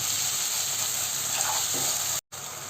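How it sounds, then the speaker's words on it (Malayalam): Chopped tomatoes fry in a hot pan in an eggplant curry, stirred steadily: a continuous close sizzle with scraping stir movements, briefly cut out near the end, no talking. "തക്കാളി വാടി വരുന്നത് വരെ നമുക്ക് നന്നായിട്ട് ഇളക്കി കൊടുക്കാം"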